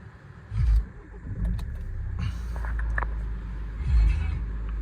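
A 2013 Hyundai i30 1.6 CRDi Blue Drive Active diesel cranks and fires up close by, with a low thumping burst settling into a steady rough idle, followed by another brief rev.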